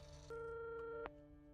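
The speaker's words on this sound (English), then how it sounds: "She picks up an old-timey hotel phone and calls up an orphanage," An old-fashioned hotel telephone gives off a single steady electronic call tone that stops with a brief click, faint and without talk.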